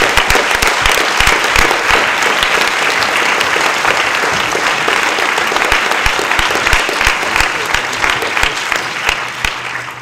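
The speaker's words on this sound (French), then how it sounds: "Applaudissements, ils sont tous en joie." A cinema audience at a film premiere applauds, a full, continuous burst of many hands clapping that stays loud and even for the whole stretch, with only faint voices underneath.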